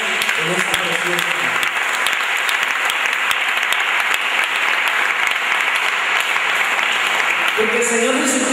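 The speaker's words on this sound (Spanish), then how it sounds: "Déjame un fuerte aplauso a Dios en esta preciosa." A church congregation applauds loudly and steadily for the full stretch, dense even clapping from many hands filling the room, with a few voices audible near the start and the end.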